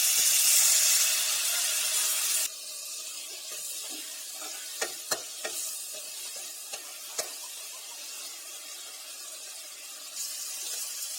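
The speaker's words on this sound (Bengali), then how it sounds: "আমার হাতাটা ভেঙে গেছে, সেই জন্য আমি খুন্তি দিয়ে নাড়ছি" Frying masala for egg curry stirred with a metal spatula, a soft steady sizzle with several sharp clinks and scrapes of the spatula against the pan, close, no voices.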